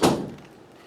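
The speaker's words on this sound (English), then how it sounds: "Oh, my doors are slamming" A single loud door slam up close, blown shut by moving air, a sharp thud that quickly decays into a short reverberant tail.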